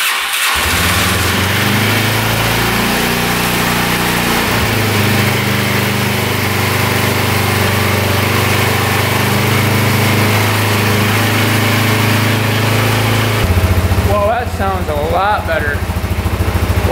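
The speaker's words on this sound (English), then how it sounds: "we'll see if this thing fires up" An ATV engine after a timing fix fires up and settles into a loud, steady idle that runs nearly throughout, with a brief change in tone near the end.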